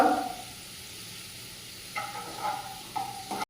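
Onion and a pinch of asafoetida sizzle in a pan, a quiet sizzle broken by several short scraping stirs, louder at the start and again in the second half.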